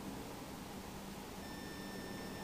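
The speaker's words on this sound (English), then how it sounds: "it means it has a short, a beep sound" A multimeter on continuity test, probes across a shorted mobile phone circuit, sounds a steady high-pitched beep that starts partway through and holds over faint background noise.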